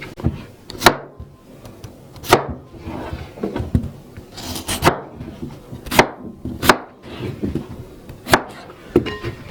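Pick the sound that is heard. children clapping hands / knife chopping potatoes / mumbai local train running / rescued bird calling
knife chopping potatoes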